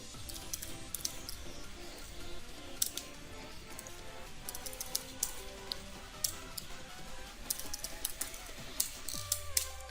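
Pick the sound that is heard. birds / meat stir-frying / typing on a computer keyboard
typing on a computer keyboard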